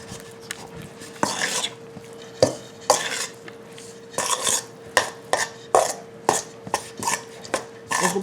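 Cream cheese and a cheese blend being stirred together in a bowl, with a utensil knocking and scraping against the sides in repeated sharp clinks and scrapes, close up and with no talk.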